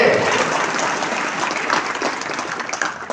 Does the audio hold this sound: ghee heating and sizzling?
no